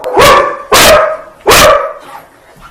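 Three loud, close dog barks in an even rhythm, each a sharp burst with a short tail, followed by a fainter trailing yelp at the end.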